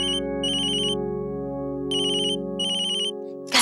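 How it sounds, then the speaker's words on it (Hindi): An electronic telephone ringtone signals an incoming call in a domestic setting, its bright melodic tone bursts repeating in a steady pattern over a sustained harmonic drone, moderately quiet, ending with a brief noisy click. "गायत्री बहन का फोन है"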